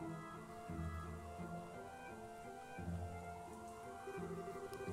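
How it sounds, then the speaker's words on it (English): Rain falls steadily in a dramatized anime scene, a soft, constant hiss kept low in the mix under a quiet musical score. "you didn't have to come out here in the rain."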